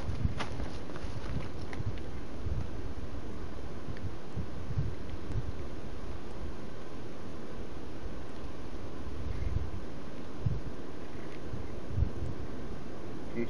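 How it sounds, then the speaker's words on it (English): Wind gusting outdoors on a snowy day, a steady broadband rush with shifting buffets and rumbling against the microphone, continuous for the whole stretch with no voices. "the wind's just changing from all different directions"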